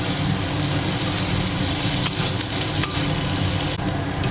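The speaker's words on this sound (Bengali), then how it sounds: "এবার বেশ কিছুক্ষণ নাড়তে থাকবো।" Chopped tomato and grated ginger fry with onions in a pan while being stirred, a steady close sizzle with scraping strokes of the spoon for a few seconds.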